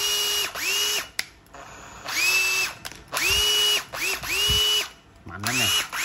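A Hakko 100V hot air rework station with its motor whirring in loud bursts, each rising in pitch as it spins up and falling away, separated by short pauses.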